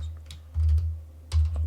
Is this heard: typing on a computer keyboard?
yes